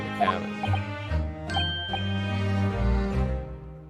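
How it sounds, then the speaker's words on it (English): A small bell tinkles with several clear, bright strikes whose tones ring on and overlap, near and moderately loud, with some voice mixed in. "The trinkling of a bell"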